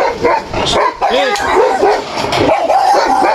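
A dog yips and whimpers in short bursts close by at a house, its cries mixed with people talking over it throughout.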